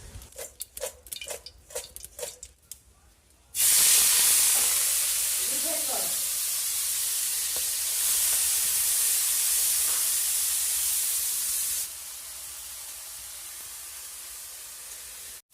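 Prawns dropped into a hot pan burst into loud, steady sizzling and frying that holds for several seconds, then eases to a softer hiss, after some light clattering at the start.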